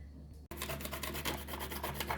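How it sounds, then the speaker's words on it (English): Nutmeg grated for Jamaican hominy corn porridge, close, quiet, rhythmic rasping strokes scraping steadily across a grater. "I am just grating my nutmeg egg to dash into my porridge"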